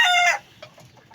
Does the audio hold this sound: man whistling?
no